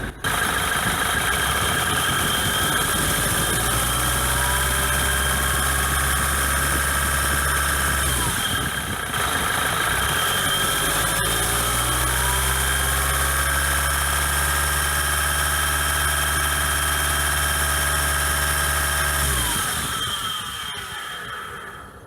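Ford Transit van engine idling with worn, noisy alternator bearings, a loud, steady close-up drone with a whining tone that dips briefly midway, then settles again until it ends.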